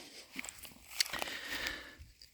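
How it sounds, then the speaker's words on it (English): A pet animal chews a dried leaf close by, producing quiet, irregular crunches and crackles for about two seconds. "As you can hear, she's full on chewing up a leaf, dried leaf."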